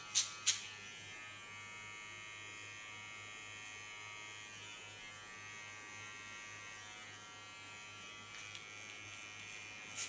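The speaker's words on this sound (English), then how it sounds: "This clipper is an ultra fine tool to work with." A fine electric hair clipper used on a haircut hums in a steady, quiet, high buzz throughout, with a few faint clicks at the start and end.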